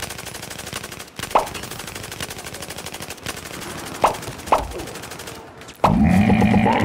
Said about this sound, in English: as it's already racked up 3 kills with a heavy machine gun on Battlefield 4